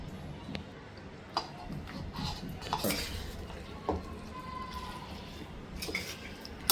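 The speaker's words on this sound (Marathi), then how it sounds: "आता मी ह्या सॅलडच्या वर ही ड्रेसिंग टाकते आणि छान मिक्स करून घेते" Soft clinks and wet stirring as a soya and sweet potato salad is tossed with dressing in a bowl, intermittent utensil taps over low background noise.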